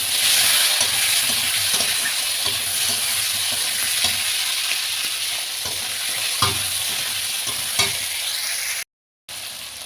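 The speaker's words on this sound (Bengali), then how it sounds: "আলু আর টমেটো নেড়ে চেড়ে নিয়েছি" Potatoes and tomatoes sizzle steadily in a hot pan for a fish curry, with occasional soft stirring scrapes. The hiss is close and constant and breaks off briefly near the end, with no talking.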